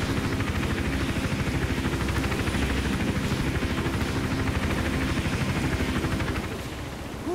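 Helicopter in the video game Hitman Absolution, a loud, dense rotor chop with steady rapid beating and engine roar that fills the whole stretch, fading slightly near the end, with no talking.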